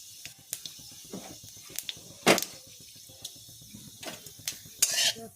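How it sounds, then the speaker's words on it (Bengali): Black cumin seeds tempering in hot mustard oil in a wok, heard as light sizzling bursts and scattered sharp clicks and utensil knocks, fairly close and without talk. "সর্ষের তেলটা গরম হয়ে গেলে এখানে 1/2 চামচ মতো কালো জিরে ফোড়ন দেব"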